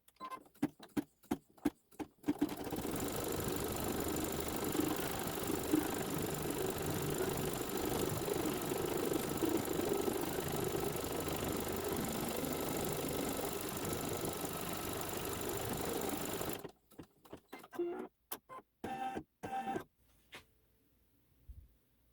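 A computerized embroidery-style sewing machine stitches the background placement line for a Santa's Workshop quilt block, a steady mechanical whirring hum running continuously for about fourteen seconds between short stop-start bursts at either end.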